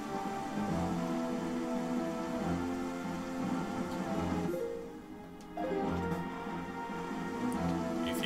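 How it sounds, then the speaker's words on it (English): Steady rain falls in the video game The Legend of Zelda: The Wind Waker, a soft continuous patter under a sustained musical backdrop, fairly quiet and without talk. "because it's fucking raining"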